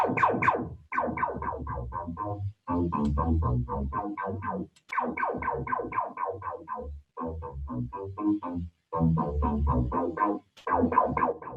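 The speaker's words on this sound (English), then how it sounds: "So I'll map it to a filter resonance." A choppy synthesizer pattern with an LFO modulating the filter resonance, sweeping rhythmically, pulsing phrases with brief gaps, fairly loud and alone.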